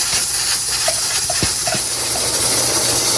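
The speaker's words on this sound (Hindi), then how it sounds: "30 मिनट हो गए हैं प्रेशर कुकर को ऑन हुए।" A pressure cooker cooking chickpeas for Lahori chana lets off a steady, loud, unbroken hiss of escaping steam, with a few faint clicks and no talking.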